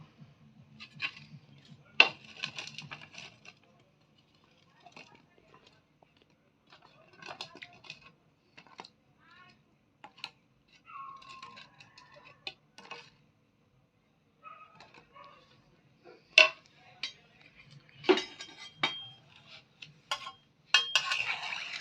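Langcha sweets slipped into warm syrup in a cooking pot, scattered soft clinks, splashes and stirring scrapes, quiet and close with pauses between.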